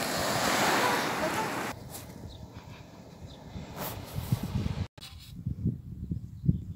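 Sea surf roars and hisses at the start, then a quieter stretch of lapping water and wind buffeting the microphone follows.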